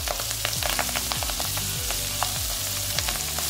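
Fenugreek greens added to a frying pan with mustard seeds, green chilli pieces and ginger paste give a steady, close crackling sizzle with little pops throughout, accompanied by a faint tonal background pattern and no speech.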